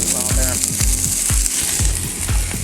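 Sliced orange, green, red and yellow peppers and onion sizzle loudly in a Weber cast iron skillet on an outdoor grill, with a steady hiss and repeated low knocks and scrapes as the vegetables are moved.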